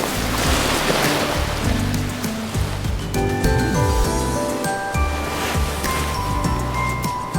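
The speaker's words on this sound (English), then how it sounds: "The waves here." Ocean waves in the video game Love and Deepspace make a continuous, close, rushing surf wash, with soft tonal music layered underneath.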